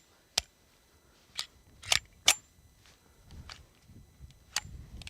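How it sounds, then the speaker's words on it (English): Loading a Springfield Armory TRP stainless steel pistol: a few sharp metallic clicks and snaps, isolated and close, separated by quiet gaps and softer handling rustles. "I'm gonna load my pistol. This time is gonna be our Springfield Armory TRP stainless steel"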